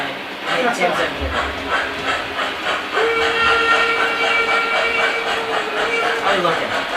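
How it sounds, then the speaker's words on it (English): A steam locomotive whistle in a train video game blows one long, steady note for several seconds over the rhythmic chuff and hiss of a moving steam train. "Love the whistle and the sound set in there."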